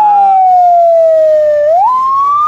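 Loud, close fire engine siren from a Subang fire department truck, a single sustained wail that slowly falls in pitch, then rises again before cutting off abruptly.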